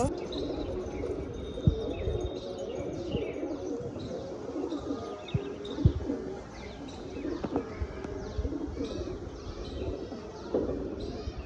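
Pigeons coo and chirp in a loft during a flock fight, with several groups of birds flying together in fine weather, a steady layered chorus with occasional sharper calls close by.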